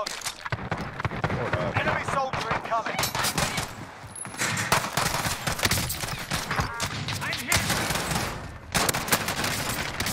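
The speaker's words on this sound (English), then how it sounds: "There's like three different people shooting at me." Enemy gunfire in Call of Duty: Warzone, with several shooters at once: dense, rapid automatic bursts crackle almost continuously, some close and loud, with short gaps between volleys.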